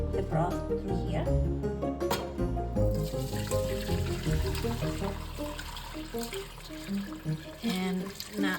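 Homemade beef broth pours and splashes through a strainer, a steady liquid trickling and gurgling that swells after a few seconds and continues close by, with some clinks at the start.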